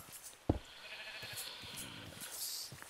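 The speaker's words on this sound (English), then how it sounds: "Sheep, you're in the way." Sheep bleat in a video game, a few quiet calls rising over soft background ambience after a brief knock near the start.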